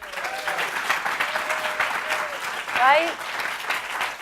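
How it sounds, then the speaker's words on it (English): A conference audience gives a sustained round of applause, a dense steady patter filling the hall, while a speaker's voice talks over it. "let's start out with a round of applause"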